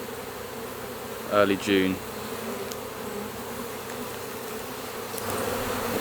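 Honey bees buzz steadily around an opened hive during early summer beekeeping work, a dense continuous hum with a couple of brief spoken words near the start.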